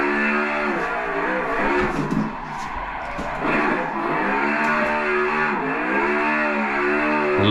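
RTR Mustang engine in a racing sim game lapping Watergrass Hill, a loud continuous drone that rises and falls in pitch through repeated revving and gear changes.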